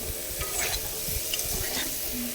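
Ridge gourd being stirred in a pan, a spatula scraping and shuffling through the pieces in an irregular rhythm over a low, steady sizzle, close and moderately loud.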